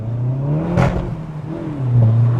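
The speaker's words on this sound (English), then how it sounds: "Wow, that exhaust!" A Volkswagen Golf GTI Mk7 hot hatch engine roars as it accelerates hard, pitch climbing through a gear change, with a deep exhaust note close by.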